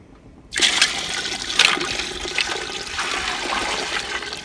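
Water pours steadily from a container over canning jars being rinsed, a loud continuous rushing splash with a few brighter surges, beginning abruptly after a brief quiet start.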